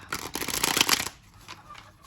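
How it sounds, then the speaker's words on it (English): A deck of tarot cards being shuffled, a quick crisp flutter and riffle for about a second, close and fairly quiet, followed by faint softer handling. "Now, I'm going to go ahead and start shuffling."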